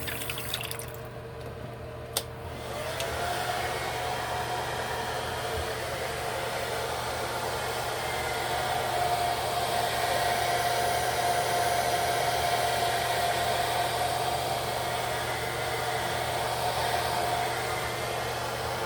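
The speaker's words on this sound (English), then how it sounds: "Alright, let me blow dry." A hair dryer runs steadily, blow drying a lace wig during installation, a constant close whooshing hum lasting throughout after a short start.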